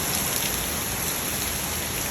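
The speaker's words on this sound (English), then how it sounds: "you can get an idea how much wind and rain that we had in this video" Rain keeps falling on a garden after heavy rain and wind, a loud, dense hiss of drops striking leaves and surfaces that stays constant throughout with no talking.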